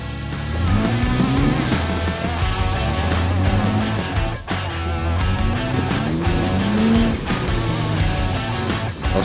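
3.6 Jeep Wrangler Rubicon on 33-inch Cooper tyres with front and rear lockers engaged, climbing a trail in low range second gear, its engine droning and rising and falling in pitch continuously, close and loud.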